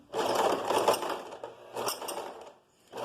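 A sewing machine stitches fabric inside out at a 1 cm seam allowance in short bursts of mechanical whirring and clicking, running twice with a brief pause between and then starting again.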